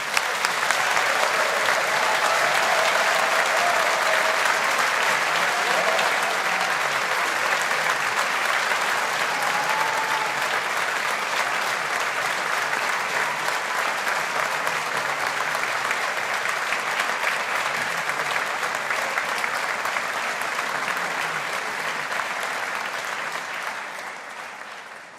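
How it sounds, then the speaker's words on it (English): Sustained applause from a large audience at a university graduation ceremony for science and engineering graduates, steady and loud throughout before tapering slightly at the end, with no talk over it. "So let's give all of our graduates of 2023 a big round of applause."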